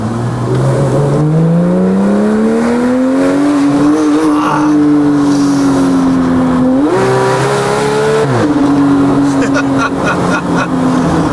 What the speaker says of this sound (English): wait till you hear the exhaust kit on it